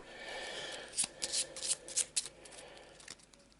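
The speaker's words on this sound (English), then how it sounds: "Quick shuffle, quick cut" Board game cards from Descent 2nd Edition being quickly shuffled and cut on a tabletop, a run of crisp riffling bursts and soft slaps in close succession, fairly quiet and alone with no talk.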